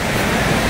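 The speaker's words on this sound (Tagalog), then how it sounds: "Rumaragasa talaga yung tubig dito guys eh." River water rushes loudly and steadily at a campsite creek, a dense continuous broadband roar close by with no voices.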